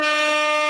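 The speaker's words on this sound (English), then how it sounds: "I'll air horn myself." A single sustained air horn blast, loud and close, holding one steady bright harmonic tone for under a second with no voices over it.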